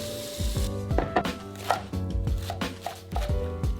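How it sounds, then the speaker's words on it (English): A big head of bitter leafy greens chopped into bite-sized pieces with a knife on a board, quick close chops in a fairly steady rhythm, loud with no talk. "So I'm gonna chop it up into bite-sized pieces and get it washed."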